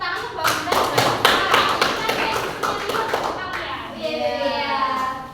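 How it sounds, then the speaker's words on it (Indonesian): Students in a classroom clap for a classmate's presentation in a short, uneven round, with children's voices chattering through and after it. "tepuk tangan untuk Mbak Gita"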